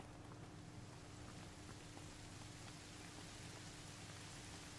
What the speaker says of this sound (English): Is it raining now?